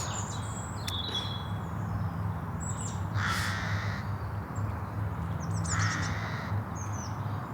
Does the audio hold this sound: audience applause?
no